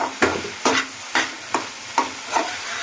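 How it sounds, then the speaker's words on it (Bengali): Water spinach (kalmi shak) is stirred with salt in a pan in six evenly spaced scraping strokes over a soft sizzle, close and clear. "এটা আবার নাড়িয়ে চালিয়ে নেব এইভাবে নুনের সাথে এটাকে ভালো করে নাড়াতে হবে"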